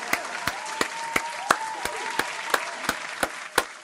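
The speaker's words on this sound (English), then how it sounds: "Can we clap it up again that we got a win?" Steady clapping from a crowd at a college football game, Miami Hurricanes vs North Carolina, with sharp regular claps standing out over a dense, continuous applause bed.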